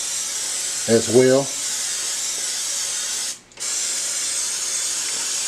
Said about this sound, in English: I'm just going ahead and spray this side